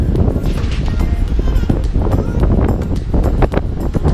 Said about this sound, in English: You probably can't even hear me, it's so windy